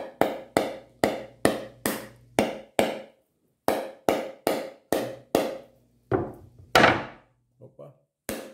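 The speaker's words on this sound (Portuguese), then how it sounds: "Vamos lá, vamos com o martelo" A hammer taps a coconut to loosen its shell with a steady run of sharp, hard knocks at about two per second, then a short pause and a few more irregular blows, loud and close.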